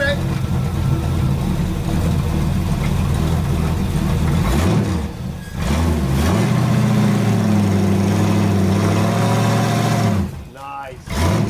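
A 1973 Chevy Camaro split-bumper, left sitting for at least ten years, runs after a cold start with a loud continuous rough engine note, briefly dipping in two spots, while people talk nearby.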